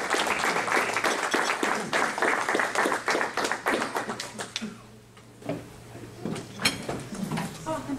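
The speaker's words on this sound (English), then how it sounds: "Let's give a big round of applause for our keynote speaker, Jon Meyer." Audience applause for the keynote speaker at the 2020 Libertarian Party of New Hampshire convention, strong sustained clapping that thins out and tapers off near the end.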